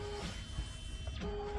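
Smartstitch S1001 embroidery machine moving its hat hoop frame, giving a steady mechanical whir with a tonal motor hum that shifts pitch partway through a short burst, no talking.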